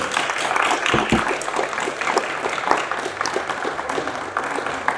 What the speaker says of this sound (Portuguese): Muito obrigado a vocês, um aplauso para o Renato e até a semana que vem.